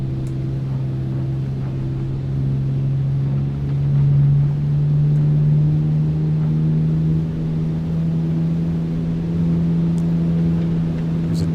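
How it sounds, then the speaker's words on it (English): Steady propeller-engine drone from a MiG-3 in Microsoft Flight Simulator, diving under the Sydney Harbour Bridge with throttle past two-thirds, pitch rising slightly and swelling in the middle as RPM climbs; continuous, loud, no talk. "There's a decent increase in RPM there."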